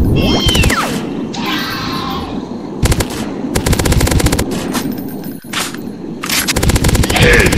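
Loud gunshots in the dinosaur-hunting game Dinosaurs Hunter, sharp cracks in separate bursts with short gaps between them, sometimes with a high ringing or whooshing effect.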